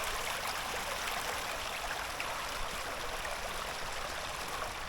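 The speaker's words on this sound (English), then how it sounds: "I'll show you the water runs down" Water runs over the travertine terraces of Pamukkale in Turkey as a steady, close, rushing flow with a bright trickling texture and no pauses or voices.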